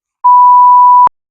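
A single loud, steady electronic beep from a phone, lasting under a second and cutting off abruptly, alone in silence.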